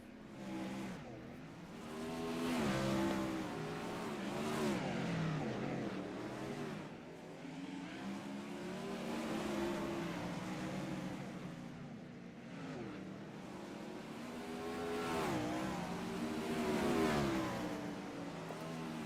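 Dirt race cars run qualifying laps at I-55, with engines repeatedly revving and fading as they circle the track, swelling and receding throughout at a moderate distance.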